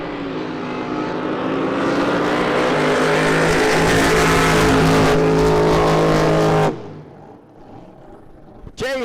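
A drag boat launches down the racing lane at a Southern Drag Boat Association event, its engine roaring loud and continuous for several seconds before cutting off abruptly, leaving quieter background noise.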